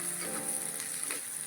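Crushed garlic, pounded on a grinding stone, sizzles steadily in hot oil in a home kitchen, a continuous bright frying hiss with faint stirring scrapes, alone without talk.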